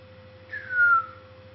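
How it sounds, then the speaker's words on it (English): A single short whistled tone, rising then holding steady for about half a second, with a faint steady hum underneath. "Whistling hurts my face, but I'm still doing it."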